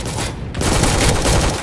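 Rapid gunfire from the Roblox shooter Recoil rattles in a dense, loud burst lasting the whole moment, shots running together into a continuous fusillade with no talking.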